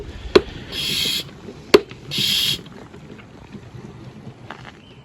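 Hand pump drawing old engine oil up through a tube from a car engine with a stripped drain plug, heard as two sustained hissing suction bursts between sharp clicks of the pump handle, close and clear.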